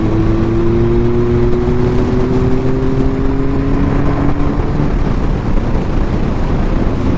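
A 1997 Triumph Speed Triple T509 motorcycle being ridden, its engine droning loud and steady at a held pitch with strong wind rush, the tone dropping slightly near the end.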